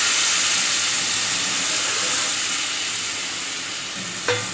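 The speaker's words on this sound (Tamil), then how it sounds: "50 கிராம் அளவுக்கு புளி உள்ள புளி கரைசல் மேலே சேர்த்துக்கிறோம்." Steady sizzling hiss of fish gravy masala frying in a pan as tamarind water is poured in, loud and continuous, ending with a brief clink near the end.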